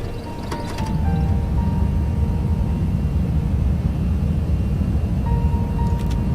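Toliss A319 airliner engines spool up to takeoff thrust in a flight simulator, a loud, steady low roar with a few brief cockpit tones and chimes heard near the start and end.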